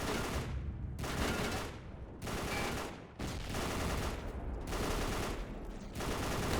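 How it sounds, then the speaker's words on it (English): Rapid machine gun fire rattles through a World War II shooter game set in the Pacific, coming in four or five long bursts separated by short pauses, fairly faint and steady. "Taking out these machine gunners in the distance, they can be pretty pesky."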